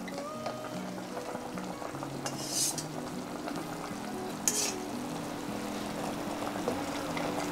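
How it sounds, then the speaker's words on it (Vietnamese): Enoki mushrooms go into a boiling pot of kimchi tofu soup with softened cabbage, a steady bubbling simmer broken by a couple of brief splashes and soft clinks. "bây giờ mình thấy là nồi canh của mình sôi rồi và bắp cải của mình cũng đã mềm rồi"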